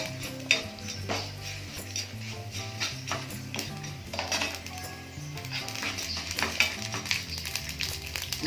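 Oil frying in a pan for masala paniyaram (gunta ponganalu), a low steady sizzle with scattered clinks and stirring of utensils nearby, fairly quiet throughout.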